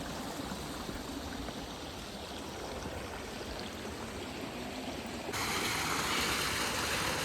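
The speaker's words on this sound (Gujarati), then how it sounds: "જો આ પાણી અહીંયાથી થોડું અહીંયાથી આવે છે અને આ બાજુ જાય છે।" Low water trickles and flows through Mayadevi cave in Dang, Gujarat, as a constant soft rushing that steps up louder and brighter near the end, with no talking.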